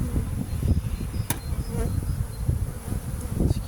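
Honeybees buzz densely and continuously at close range while being scooped to populate mating nuclei, a steady low drone with a few faint clicks.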